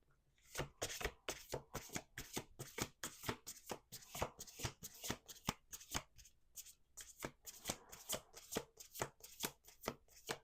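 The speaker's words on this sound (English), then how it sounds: "One last shuffle." Oracle cards riffled and snapped through a deck over and over, a fast run of crisp, close clicks and flutters in steady bursts, with no talking.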